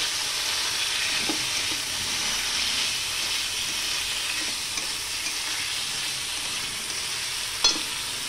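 Kofta masala frying in a pan while being stirred, a steady sizzling hiss throughout with a few soft scraping strokes and one sharper knock near the end, no talking.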